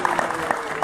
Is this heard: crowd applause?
yes